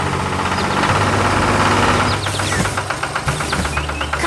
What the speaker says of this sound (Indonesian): Traktor hijau bekerja di tengah sawah